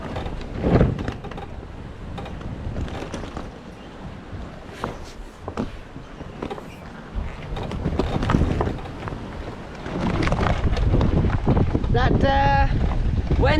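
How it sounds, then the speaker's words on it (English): A sailboat jibes downwind under autopilot off Brazil's north coast, with steady wind buffeting the microphone, rushing water, and creaks and knocks of rigging and hull, while people talk. "The boat jibes under autopilot."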